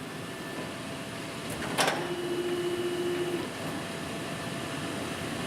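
An HP IP840 large-format plotter starts a long print, giving a brief mechanical clatter and a short sliding whir followed by a steady tonal motor hum under constant background noise.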